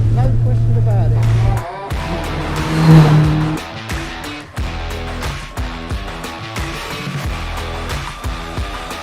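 A Hayabusa-engined MK Indy R kit car accelerates hard, its engine roaring loudly and steadily up close, with gear changes breaking the rising drone and some wind or road noise underneath.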